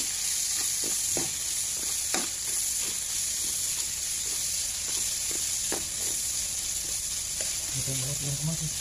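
Tomatoes frying in a pan with fish and ginger, a steady sizzle with scattered crackles and stirring clicks close up, with no talk.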